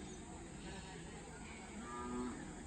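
Hallikar cows lowing at the Magadi cattle fair, with one clear sustained moo rising late amid a steady, noisy outdoor fair background.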